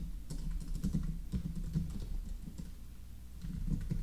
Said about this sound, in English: let's go ahead and type in the username